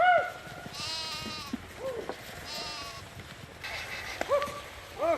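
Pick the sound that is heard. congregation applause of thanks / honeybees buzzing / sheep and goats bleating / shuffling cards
sheep and goats bleating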